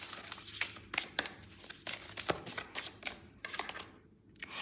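Tarot cards are shuffled by hand for several seconds, a steady rustle of sliding and tapping cards close to the microphone, with no talking over it.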